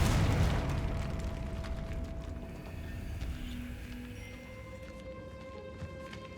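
A Confringo fire spell explodes in the Hogwarts Legacy video game, a loud burst at the start that fades into a rumbling tail under soft ambient game tones.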